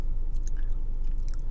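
Crunchy Cheesy Pizza Goldfish crackers from Pepperidge Farm being chewed up close, a steady run of crisp bites and crunches with no talking.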